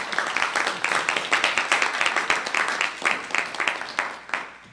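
Closing applause from the audience of a conference talk at DrupalCon Baltimore 2017, dense rhythmic clapping from a roomful of people, fairly close and lively, holding steady for several seconds before tapering slightly.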